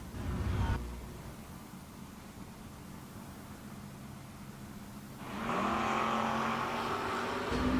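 A Chevrolet Camaro and a Ford Maverick at a drag race give a short burst of engine noise, then a lull of distant hiss. A loud, sustained roar rises and holds near the end.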